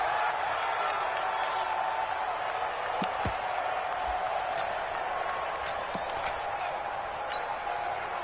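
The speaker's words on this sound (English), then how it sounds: "Listen to this crowd now." A video game football stadium crowd roars steadily at a distance during a tense two-point conversion, a broad constant wash of cheering with a few faint clacks and thumps.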